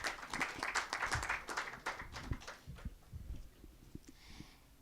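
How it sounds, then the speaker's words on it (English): An audience at a Tycoon Kerala 2014 event session applauds in a dense burst of many hands clapping, which thins into scattered, fading claps toward the end. "a big round of applause"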